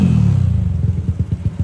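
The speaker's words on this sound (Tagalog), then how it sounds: "Yung makina ng motor 195cc." A 195cc Yamaha Aerox motorcycle engine revs up close and loud, with a throaty rising roar that breaks into rapid rhythmic pulsing putters.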